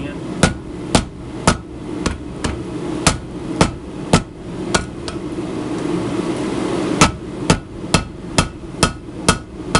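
Hammer blows land on a cable Damascus billet during a forge weld, sharp ringing strikes in steady rhythm, a quick run at first, a short pause, then another even series, close and loud.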